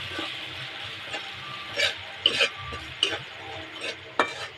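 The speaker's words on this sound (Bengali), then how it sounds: "ভালো করে নেড়ে চেড়ে একটু ভেজে নেব" Ginger and garlic with turmeric, chilli and cumin powders and salt being stirred and fried in a pan for a singara filling: a soft, steady sizzle broken by scattered scraping spoon strokes, close and fairly quiet.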